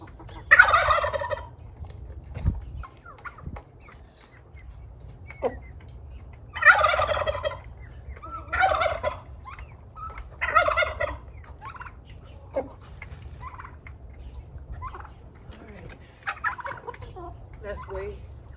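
Several turkeys gobble in loud, rattling bursts that come and go at irregular intervals over a quiet outdoor background, some near and some farther off.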